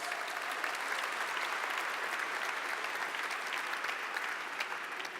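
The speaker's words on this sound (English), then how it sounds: "you can clap your hands" Faint, distant applause from an audience at a market launch event in Amsterdam, an even wash of many hands clapping without pause throughout.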